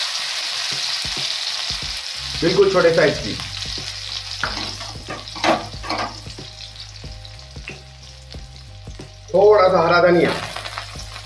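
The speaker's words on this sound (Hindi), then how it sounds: "डाल देंगे जीरा बिल्कुल 8 से 10 चुटकी या 1 छोटा चम्मच, और तड़का लगने देंगे" Oil sizzles and crackles steadily in a hot pan as cumin seeds temper, with a person speaking briefly over it now and then.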